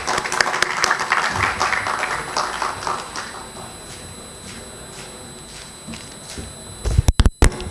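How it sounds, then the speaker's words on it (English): An audience at a technology exhibition event in Ahmedabad claps for a guest taking the stage, a burst of applause that is strongest at first and thins over several seconds, followed by a few sharp bumps and clicks near the end. "So may I have a big round of applause for Mr. Yogesh Kundani."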